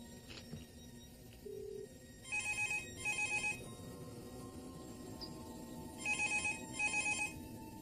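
An outgoing telephone call rings out in two quiet bursts, each a pair of electronic rings separated by a pause, over faint background hiss.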